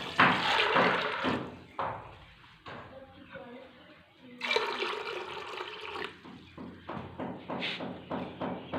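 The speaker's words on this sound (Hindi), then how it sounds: "इसमें हम पानी डालेंगे।" Water poured into a pressure cooker holding white chickpeas in a home kitchen, splashing and gurgling in bursts with short pauses, close and clear, while a person talks alongside.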